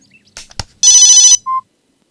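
A telephone rings loudly and close in a Tamil film scene: a few soft knocks and clicks, then one sustained electronic ring burst followed by a shorter beep, then silence.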